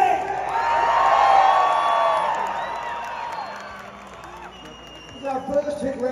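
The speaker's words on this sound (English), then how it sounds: "a big round of applause. 50 years anniversary for AC/DC!" Concert crowd at a classic rock show marking AC/DC's 50th anniversary, applauding and cheering loudly in a broad swell that fades, then picks up again with whoops near the end, mixed with music and voices.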